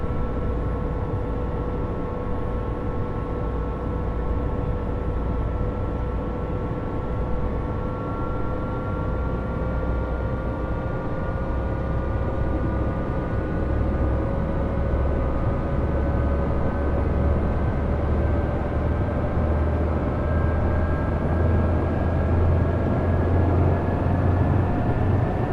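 Bell 407 helicopter turbine in the Dreamfoil flight simulator spooling up after the throttle opens, a steady loud whine that rises slowly in pitch over a constant low rumble, heard alone without talk.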